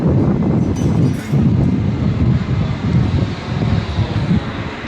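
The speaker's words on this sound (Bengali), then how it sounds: "এখন গেট এখন বন্ধ আছে, কারণ এই ট্রেনটা যাওয়া আসা করছে।" An inspection train rumbles past a closed railway gate near Plassey station, a steady, loud, low mechanical roar with a rhythmic pulsing that holds across the whole stretch.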